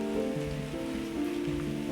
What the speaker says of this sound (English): Guys, it is raining here.